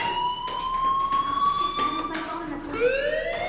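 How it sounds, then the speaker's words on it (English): An electronic fire alarm in the video game Life Is Strange wails continuously with rising and falling tones, steady and fairly loud throughout. "do you hear that fire alarm?"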